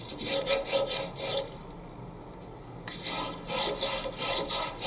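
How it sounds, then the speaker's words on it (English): A Teflon bone folder burnishes paper with close, rhythmic back-and-forth rubbing strokes. The strokes stop for a quiet stretch, then resume at the same steady pace, with no voices. "turn over and burnish again with your bone folder to make sure"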